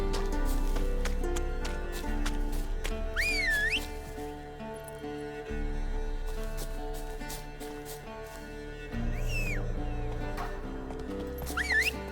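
Horse in The Witcher 3 video game neighing twice with rising whinnies over galloping hoofbeats, set against a steady game music bed.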